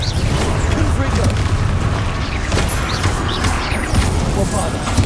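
Confringo blast spells explode in the game Hogwarts Legacy as a dense, rumbling, sustained roar with a few sharper bursts, loud and continuous, with voices over the top.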